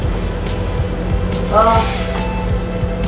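A Ferrari in a racing video game played with a steering wheel, its engine droning steadily throughout with a brief rise in revs midway, while a player talks over it.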